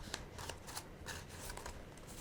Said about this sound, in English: Depending on how sharp your scissors are, these are fairly dull, to be honest.